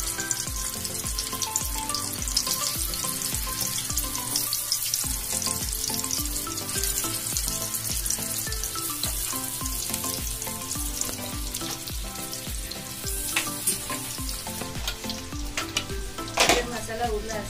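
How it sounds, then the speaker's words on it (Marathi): Stuffed bitter gourds frying in hot oil over a low flame, giving a dense, steady, loud sizzle and crackle that runs unbroken throughout at close range. "आता आपले तेल गरम झालेले आहे। आपण आता त्यात आपली सर्व कारली काढ टाकून घेऊया।"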